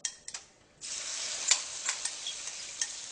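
An egg hisses and sizzles in a hot pan on an induction cooktop at close range, a steady crackle with small pops, starting after a few soft clicks.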